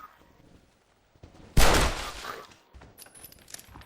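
A single loud pistol shot booms in Red Dead Redemption, a sharp blast with a short decaying tail, followed by faint game ambience.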